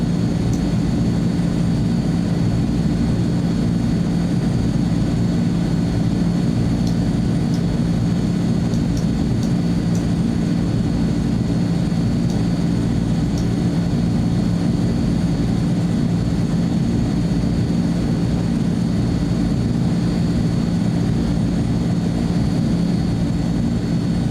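A Transall C-160 twin-turboprop transport in Microsoft Flight Simulator 2024, its propeller engines droning steadily and loudly while taxiing for takeoff, with a constant low hum and no pauses.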